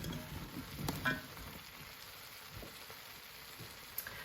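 Green beans being stirred into a beef and bacon stew, a faint soft sizzle with a few gentle scraping stirs near the start, quieter simmering afterward.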